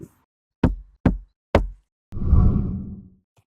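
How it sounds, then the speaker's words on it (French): The body panel of a Ford van fitted with 4 cm of insulation is knocked three times, giving short, dull thuds about half a second apart, then a longer muffled rumbling whoosh. "Et le bruit de mon fourgon après."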